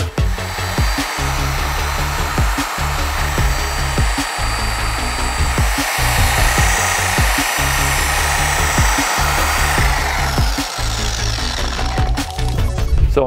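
A random orbital sander works 1500-grit paper over the paint of a 25-year-old Peugeot 306, giving a loud, steady buzzing whir with a regular pulsing throb that runs the whole time with no talk.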